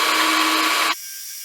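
A high-pitched milling machine whine grinds loudly as the cutter plunges into metal, then cuts abruptly partway through, leaving a quieter steady spinning hum.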